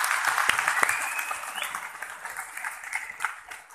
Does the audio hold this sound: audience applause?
yes